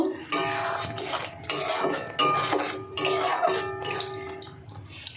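A spoon stirs garam masala into paneer tadka in a metal pan, with repeated scraping and clanking strokes in an uneven rhythm, close and clear, under a faint sizzle.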